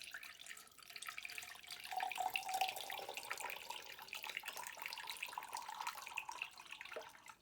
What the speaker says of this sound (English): So if I pour this water in here